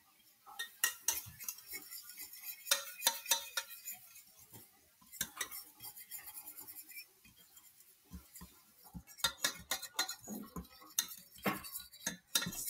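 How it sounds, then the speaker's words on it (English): A utensil stirring cake batter in a bowl, making a run of quick clinks and scrapes against the sides in irregular bursts with short pauses between, close and fairly quiet, with no talking. "stir it around"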